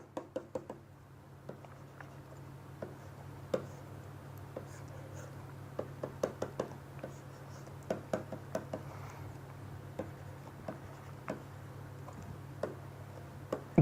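A pen scratches and taps as it draws a molecule, giving quiet irregular strokes and small ticks against a low steady hum.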